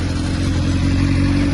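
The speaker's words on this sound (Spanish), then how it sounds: "vamos a ver cómo suena esta moto" A 2008 Honda CBR 600 RR with stock exhaust idling or revving in neutral, a loud steady close-up engine drone with a strong low throb and no voices.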